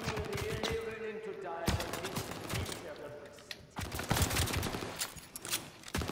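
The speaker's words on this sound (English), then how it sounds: "Bro, who's shooting at me over here" Gunfire in Call of Duty: Vanguard, rapid bursts of shots crackling over a steady game soundscape, with a voice speaking over it at times.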